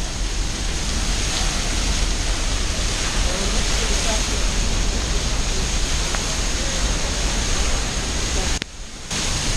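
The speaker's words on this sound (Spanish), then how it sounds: "justo debajo de la cascada" Pailon del Diablo waterfall in Ecuador roars from directly beneath, a loud, dense, constant rush of falling water filling the whole stretch and covering everything else.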